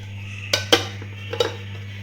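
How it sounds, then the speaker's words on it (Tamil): A knife works around the edge of a baked peanut chocolate Oreo cake in its pan, giving a few light metallic clinks and taps against a steady low hum. "இப்போ ஓரத்தில் லைட்டாக இந்த மாதிரி கத்தியை வச்சு ஸ்க்ரேப் பண்ணி விட்டுட்டு நம்ம இதை இன்னொரு பிளேட்டுக்கு மாற்றிக்கலாம்"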